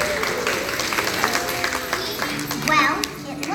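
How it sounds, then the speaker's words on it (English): A group applauds at a crayon-making factory show in Orlando, with patchy clapping mixed under children's chatter and background music, moderately loud and crowded throughout. "So give yourselves a round of applause, everyone."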